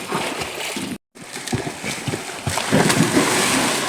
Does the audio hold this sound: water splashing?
yes